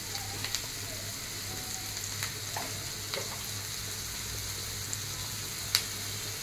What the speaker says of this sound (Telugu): ఈ ఆనియన్స్ బాగా ఫ్రై అవ్వాలి. ఆనియన్స్లో కొద్దిగా సాల్ట్ వేసుకుంటున్నాను.